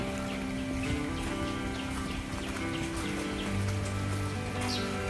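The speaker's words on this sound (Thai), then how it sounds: "วันนี้มีฝนตกลงมานะครับ" Rain falls on a farm garden in Nakhon Nayok, a steady dense patter of drops hitting surfaces, continuous and close.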